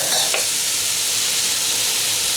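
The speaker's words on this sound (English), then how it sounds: "Now I'm going to put in the cabbage" Cabbage tossed into a pan with chicken, a loud, close, continuous sizzle with a brief stirring scrape near the start, no talking.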